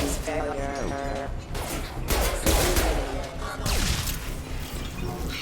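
Gunfire from a Mass Effect 2 firefight against mechs: repeated sharp shots and bursts with clanking mechanical hits and crashes, loud and close, several volleys over a few seconds, with voices talking in the background.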